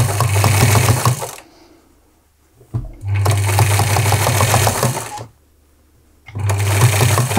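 Sewing machine stitching a fabric scrunchie over elastic, running in steady bursts of close, loud mechanical whirring separated by brief pauses.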